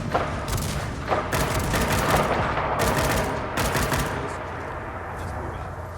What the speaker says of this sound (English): Oh, 50 cal, that's why. It's a big gun.